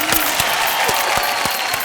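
Studio audience applause on an Indian TV game show, loud dense clapping filling the space, with a few sharper claps and brief voice traces standing out near the front.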